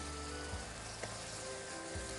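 Spice paste with mustard paste frying in a pan, a soft continuous sizzle under low steady background hum, faint and even with no one speaking.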